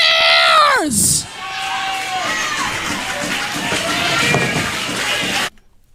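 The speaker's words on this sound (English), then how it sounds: "And you hear the people cheering." A crowd cheers and shouts in a dense, loud wash of voices that holds steady for several seconds before cutting off abruptly, after a brief falling whoosh at the start.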